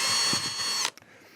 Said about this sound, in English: So I will drill a hole in this lid.